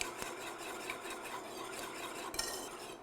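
Wire whisk stirring Nanaimo bar custard mixture in a pan over low heat, a steady close scraping and swishing that runs without pause, with one brief sharper clink near the end.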